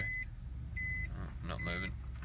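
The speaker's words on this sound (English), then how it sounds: "you've got the beeping from the car itself too" Proximity beeping from a car's reversing parking sensor, heard as three short steady electronic tones in a row, the last one longer, over a low engine hum.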